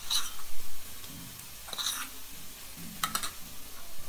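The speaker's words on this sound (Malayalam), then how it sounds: "അതും പച്ചമണം നന്നായി മാറുന്നിടം വരെ ഒരു 5 മിനിറ്റോളം നന്നായി ഇളക്കണം" Kashmiri chili powder, turmeric and coriander powder being stirred in a hot pan with shallots for a Kerala mackerel curry, giving soft scraping strokes over a faint sizzle, close and fairly quiet, with no talk.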